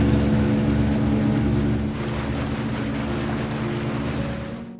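A boat motoring away from a dock toward an uninhabited island, its steady engine drone running loud and close under wind and water wash, with no talk.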